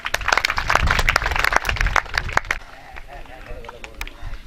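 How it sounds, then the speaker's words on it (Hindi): An audience at a community cow-shelter event in Lilamba, Raipur, Pali claps to welcome a speaker: loud, sharp, scattered claps for a couple of seconds, then thinning out into a softer murmur of sparse clapping. "खूब जोरदार तालियों से बहुत बहुत स्वागत।"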